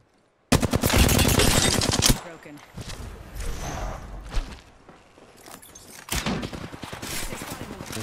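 Rapid bursts of automatic gunfire from a turret in the video game Apex Legends, loud at first, then sporadic shots and movement noises, then another close burst near the end.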